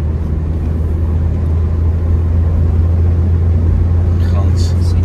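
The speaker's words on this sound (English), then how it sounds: "Can you hear the engine?" An old small car's engine labours uphill as a steady low droning rumble inside the cab, continuous and fairly loud with little change in pitch.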